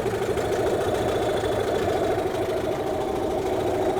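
Hangkai outboard boat motor idling while its cooling is checked, a steady close mechanical chug with a fast even pulse that holds at constant loudness throughout.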